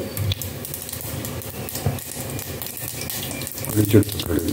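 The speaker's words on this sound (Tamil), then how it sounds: "பச்சை மிளகா 2 தாளிக்க." Green chillies sizzling in hot oil while tempering for sambar, a steady frying crackle with a few sharper pops near the end, close and moderately loud.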